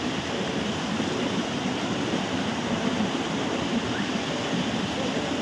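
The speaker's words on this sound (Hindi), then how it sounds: "पानी का आवाज सुन रहे होंगे यहाँ पे" The Khandhadhar waterfall in Odisha roars as a constant, loud, broadband rush of falling water, steady throughout with no talk over it.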